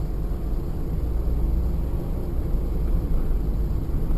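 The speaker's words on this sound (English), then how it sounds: "The engines are running while they're parked up, look." Parked vehicles idle with engines running along a seaside promenade in Nice, France, a steady low rumbling drone with broadband hiss, constant and fairly loud.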